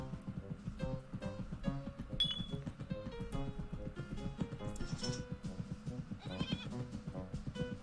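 Sheep bleats from a video game sound effect, heard as short animal calls over dense, steady game music with repeating low notes throughout.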